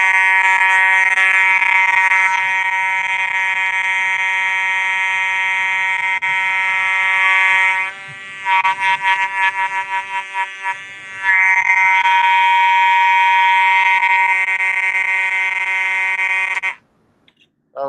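A fire alarm mechanical horn strobe sounds during a test, a loud continuous harsh buzzing tone that breaks into rapid stuttering pulses midway, resumes steadily, then cuts off near the end.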